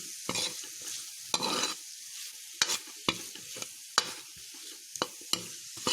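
Amla (Indian gooseberry) sabzi cooks in a pan, with a soft background sizzle broken by repeated sharp scrapes and clacks of a spoon stirring, close and alone without talk.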